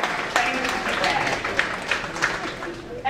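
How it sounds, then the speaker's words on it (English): A group gives itself a round of applause at the close of a school year, dense continuous clapping heard with a voice talking over it. "Give yourselves a round of applause."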